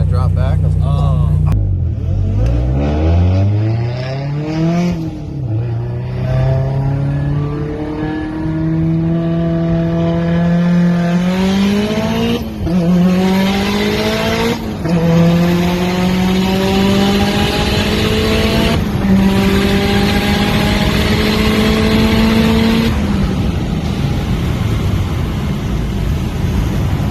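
Race cars, including a new GT500, accelerate hard side by side on an abandoned runway, with loud engines climbing through repeated rising gear sweeps and shifts, and voices talking over the roar.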